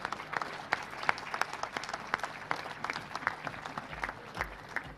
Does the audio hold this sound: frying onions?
no